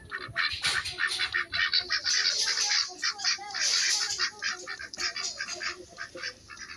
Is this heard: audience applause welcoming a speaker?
no